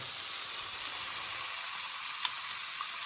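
Coconut milk being stirred in a cooking pot, a steady soft hiss and faint scraping held close and even throughout, with one small clink near the end and no talk.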